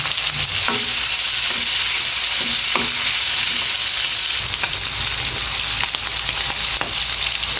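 A home-cooked Filipino dish bubbles and sizzles loudly in a pan, with a constant close hiss and a few soft scraping stirs scattered through it. No voices.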